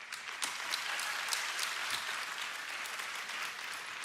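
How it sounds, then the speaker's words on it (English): A school audience applauds at a South Laurel awards gathering, with continuous clapping from many hands sustained evenly throughout, heard from a distance in a large room. "We'll pause for applause on that one."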